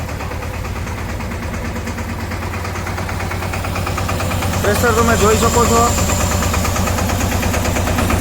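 A tractor-mounted spray pump runs at low throttle, a steady mechanical engine drone and pump hum that grows slightly louder, with someone speaking over it partway through.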